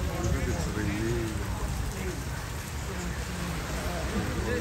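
Steady rain falls on a rainy day in Singapore, a dense, even hiss that stays loud through the whole stretch, with voices talking over it at times.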